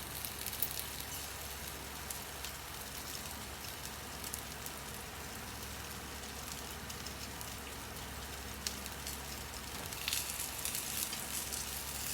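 Continuous soft sizzling and crackling of chicken wings grilling over low heat in a dry pan, steady and moderately quiet throughout, with no voices.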